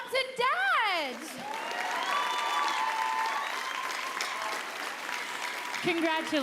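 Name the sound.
applause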